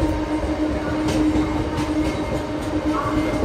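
Sealdah–Godda fast passenger train rolling slowly past Bidhannagar Road station without stopping, a steady close rumble of wheels and carriages with faint clatter and no talk.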